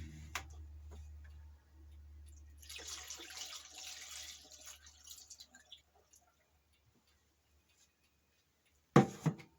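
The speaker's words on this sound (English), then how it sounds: "Take our funnel and pour the rest in." Liquid poured through a funnel while racking homebrew, a soft splashing trickle that swells for a few seconds and tapers off into drips over a low steady hum, ending with a sharp knock.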